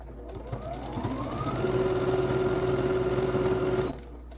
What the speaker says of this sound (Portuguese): nós vamos passar aqui uma costurinha entre o meio dela, para essa canaleta ficar fixada aqui